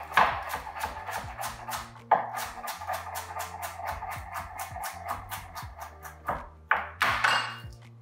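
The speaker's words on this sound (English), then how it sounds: "We're gonna chop this up." A knife chops sandwich filling on a cutting board in a steady series of close, crisp knocks, speeding up into louder clustered chops near the end, with faint background hum.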